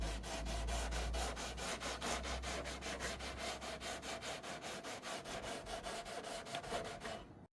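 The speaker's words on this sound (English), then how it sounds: "Once cut, we sanded the edges for a smooth finish." Steady back-and-forth rasping as the cut edges of an acrylic bath panel are sanded, close and continuous in even strokes for several seconds before stopping abruptly.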